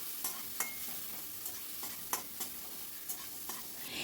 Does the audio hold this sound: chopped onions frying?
yes